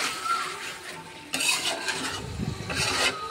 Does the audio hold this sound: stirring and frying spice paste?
yes